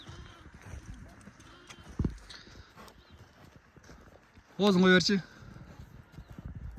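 A dark bay horse's hooves clip-clop softly and unevenly nearby while someone talks, with one sharp knock and a brief loud voiced call near the end.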